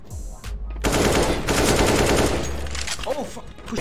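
Rapid automatic gunfire from the video game CS:GO, dense bursts running loud and near through most of the stretch, with brief gaps and some faint voice-like sounds near the end.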